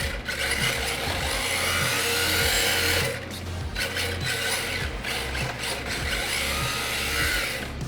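RMX 2.0 RC drift car running on slick concrete with stock tires, a continuous whining electric motor with rising and falling pitch and tire scrubbing, fairly close and steady.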